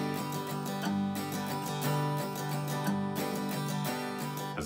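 Acoustic guitar strummed in the down-up pattern used for a song, steady rhythmic chords ringing alone and close for several seconds with no talking.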